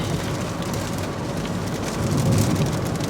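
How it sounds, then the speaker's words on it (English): Light drizzle falls in El Yunque rainforest, a steady soft patter of raindrops with a low, distant rumble underneath, no voices. "Well, it's drizzling a little bit."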